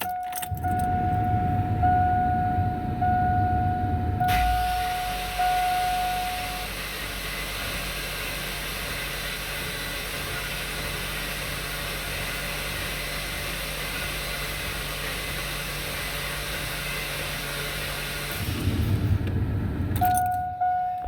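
A car engine cranking on the starter to check oil pressure after oil pump work, a steady whirring crank running for long stretches without catching, with louder motor noise at the start and end.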